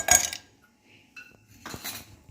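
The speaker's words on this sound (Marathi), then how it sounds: "त्यानंतर आपल्याला घालायचे बर्फाचे 4-5 खडे" Four or five ice cubes dropped into a glass for mango mastani, making two short bursts of bright clinking and rattling, close and clear, with quiet gaps between them.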